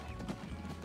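Hooves clip-clop steadily from a team of horses in the transport simulation game Transport Fever 2, a brisk, fairly quiet patter over a busy background hum.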